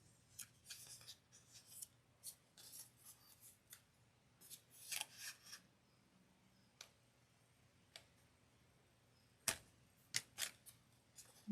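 Scissors snip through folded paper in a quiet room, a run of quick close crisp cuts followed by scattered single snips and a few sharper clicks, with no talking.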